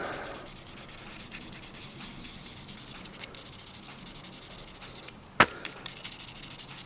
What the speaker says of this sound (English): I've now gone over the watch again with the different grades of sandpaper